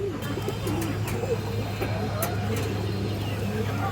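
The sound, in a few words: pigeons cooing, a high-quality pigeon pair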